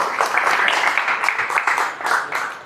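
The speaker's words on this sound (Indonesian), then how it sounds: "Tepuk tangan dulu untuk kita semua ya." A room of participants at a situational leadership training session claps for one another: a brief, moderately loud patter of many hands, evenly sustained with slight swells and no voice on top.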